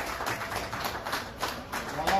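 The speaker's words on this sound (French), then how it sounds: "applaudissez, applaudissez pour le" Wedding guests clap together at a Congolese wedding reception as the future groom is presented, a steady, dense patter of applause with voices mixed in underneath.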